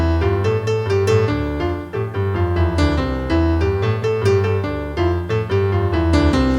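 An African praise song intro is played two-handed on a keyboard: a loud, steady stream of rhythmic chords and bass notes with no voices.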